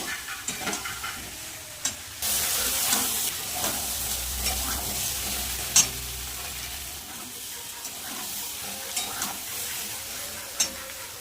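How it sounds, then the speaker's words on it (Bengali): Masala frying in a pan as it is stirred, a steady close sizzle with a louder surge of hissing partway through, punctuated by occasional sharp scrapes and taps of the spatula, and no one talking. "ভালো করে মশলাটা কষিয়ে নেবো"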